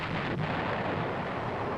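A single heavy boom from the main gun of an M551 Sheridan tank firing, a broad loud blast that fills the whole short stretch with rumbling low-end energy.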